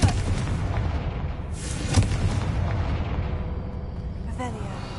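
A Confringo spell detonates in a Hogwarts wizarding video game, a loud rumbling blast that swells and rolls for several seconds against a dense, booming game soundscape.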